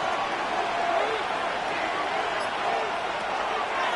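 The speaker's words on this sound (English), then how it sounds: "This crowd into it now as we get to third down." A stadium crowd in the Madden 26 American football video game makes a steady, loud roar before a third-down play, while a voice talks over it.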